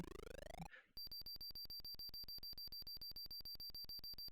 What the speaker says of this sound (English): I didn't want that horrible bleeping in the background while I was reading the instructions